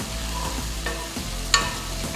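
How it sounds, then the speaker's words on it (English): Finely chopped onions sautéing in oil with cumin seeds and red chilies, a steady close sizzle with a few soft stirring scrapes and one brief sharp clink, no voices. "add about 2 medium-sized onions finely chopped, saute the onions for about 2 to 3 minutes."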